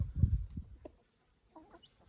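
A few soft, close clucks from chickens, short and irregular, with quiet pauses between them.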